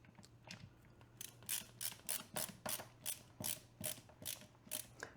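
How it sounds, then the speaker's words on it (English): A screwdriver ratchets and clicks in quick repeated bursts while tightening screws into a plastic swivel, a close, fairly quiet mechanical rhythm with brief pauses. "use a screwdriver to get that last little bit of torque in"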